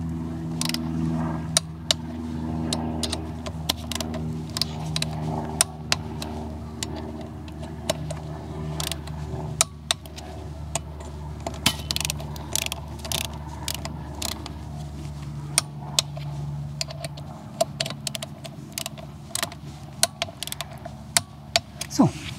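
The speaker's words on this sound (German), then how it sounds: "Jetzt kommt wieder der Drehmomentschlüssel." A torque wrench set to 25 Nm tightens the wheel bolts on a Vespa GTS 300 fitted with new 13-inch BGM Sport rims. Scattered ratcheting clicks and metallic clanks sound over a low, steady hum.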